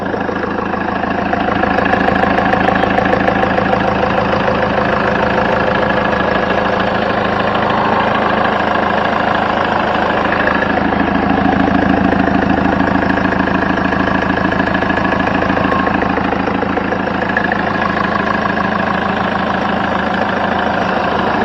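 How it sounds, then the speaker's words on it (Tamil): A Mahindra Scorpio diesel engine idles steadily nearby, with a continuous low rumble and a faint knocking clatter running at an even pace, with no talk over it. "அப்படியே வண்டியோட இன்ஜின் சவுண்ட் அப்படியே லைவாக கேளுங்க"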